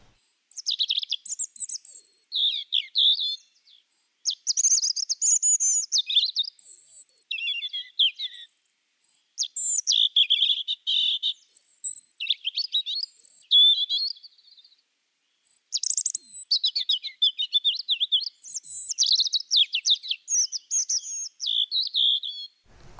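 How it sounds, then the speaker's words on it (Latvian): A tree pipit sings alone in Latvia in clear, high phrases of trills and sweet descending notes, repeated in bursts separated by short silences against a quiet background. "Koku čipsta ir viens no parastākajiem Latvijas dziedātāju putniem"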